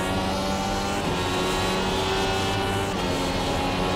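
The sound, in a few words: race car engine at full revs in iRacing video game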